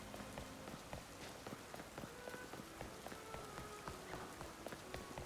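Steady rainfall in the video game Pokemon Legends Z-A, a soft even patter with scattered drop ticks and faint footsteps on wet grass, over light game music with no talk.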